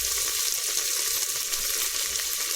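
Toor dal frying in a pan with chopped onion and tomato for hotel-style idli sambar, a steady close sizzle running unbroken throughout.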